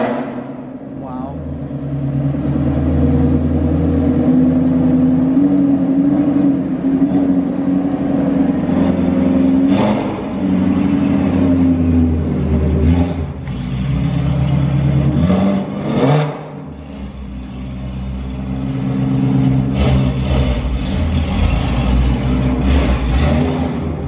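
A boosted Shelby GT350R with a Borla exhaust accelerates and revs hard, its engine note rising and falling through several pulls over a steady in-cabin rumble, with occasional voices underneath.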